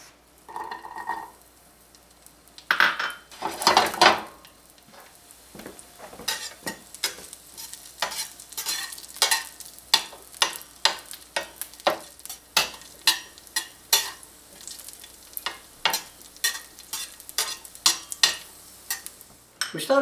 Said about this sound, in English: So I have a pan on the stove with oil in it right now, and we're going to cook these up until they turn a nice deep green.